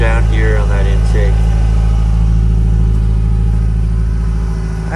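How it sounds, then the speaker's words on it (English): A 1987 Ferrari Testarossa with about 14,000 miles idles steadily with its engine cover raised, a loud, constant low engine drone close by, while someone talks over it at the start. "And while the car's running"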